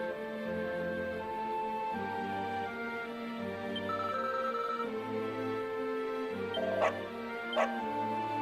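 A dog in the video game Dragon Quest XI gives repeated yipping, whimpering barks over steady game music, close and clear with a couple of sharper sounds near the end.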